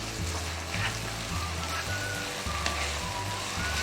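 Spaghetti with chicken and vegetables sizzles steadily in a hot pan while hot and chilli sauce is added. The crackling hiss runs close and continuous, with a low hum underneath.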